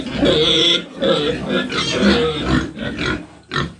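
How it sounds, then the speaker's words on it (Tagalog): Pig about three months old grunting and oinking at close range on a rural farm in Occidental Mindoro, with repeated throaty bursts running through most of the moment and a short final grunt at the end. "Update sa baboy."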